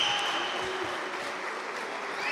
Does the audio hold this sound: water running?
no